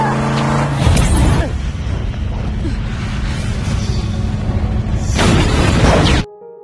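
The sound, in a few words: car exploding from a thrown bomb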